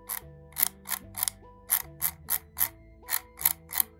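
The plastic scroll wheel of a Logitech M90 mouse turns in a quick run of loud, distinct ratcheting clicks, about a dozen in an uneven rhythm, heard up close with no talk.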